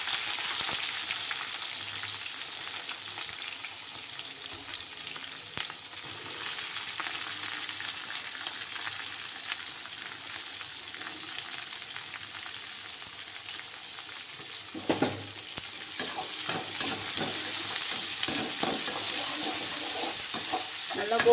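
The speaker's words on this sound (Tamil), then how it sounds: "நல்லா கோல்டன் ஃப்ரை வர வரைக்கும் நல்லா வதக்கி எடுத்துக்கலாம்." Onions sautéing in a pan with curry leaves while making a bitter gourd thokku, a continuous low sizzle with stirring scrapes and a brief clatter midway, steady and fairly quiet.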